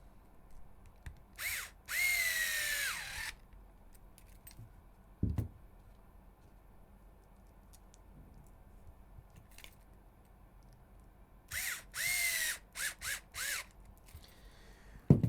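A power drill whirs in a few short bursts driving screws into the steering knuckle of an HPI Venture RC car, with quiet gaps and a sharp knock in between.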